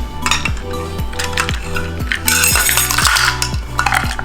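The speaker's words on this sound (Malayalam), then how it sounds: "ഇനി നമ്മളത് ശരിക്കും ഒന്ന് ഇളക്കി കൊടുക്കുക" A spoon clinks rhythmically against a container while stirring homemade hand sanitizer, steady rapid scraping taps about twice a second, close and fairly loud with bright metallic ringing.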